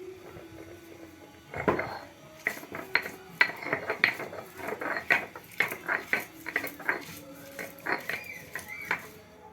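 Onion and garlic being ground together by hand, a run of sharp rhythmic knocks and scrapes up close, repeating steadily after a brief pause, with no speech.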